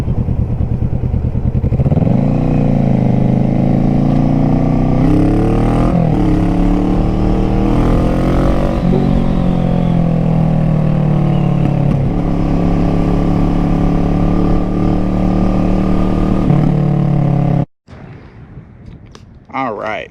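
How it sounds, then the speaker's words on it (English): A Kawasaki Z125 Pro motorcycle fitted with an aftermarket exhaust rides along loud and close, its engine note rising and falling through gear changes and throttle shifts, then cutting off sharply near the end. "Z125 Pro has an aftermarket exhaust on it."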